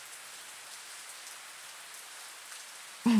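Steady rain falls with a soft, even hiss of drops on a surface, unbroken for about three seconds before a brief louder tonal sound cuts in at the very end.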